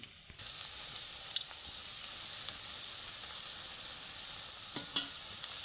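Grated coconut goes into a pan of frying snake gourd, and a loud, steady sizzle starts almost at once, holding throughout with a few light clinks and stirring scrapes and no speech.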